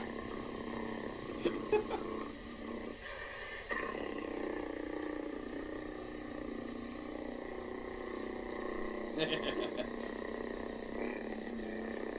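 A low, rumbling purr vibrates continuously for several seconds, close and steady, with a few brief higher rustles and squeaks.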